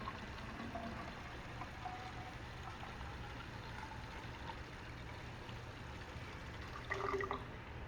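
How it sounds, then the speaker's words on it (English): Water poured into a graduated cylinder during a volume lab, a steady, fairly quiet trickling wash that runs throughout, with a brief louder splash near the end and no talk. "we are going to pour it into the graduated cylinder"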